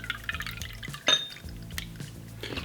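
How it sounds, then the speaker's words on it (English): Vegetable stock poured into a cooking pot, soft liquid splashing and a sharp clink of metal or glass midway, quiet and close, with light kitchen clatter around it. "Get some vegetable stock."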